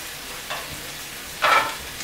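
Potatoes frying in a pan alongside bison sliders, with a low steady sizzle broken by two short scraping bursts as they are flipped, the second louder and closer.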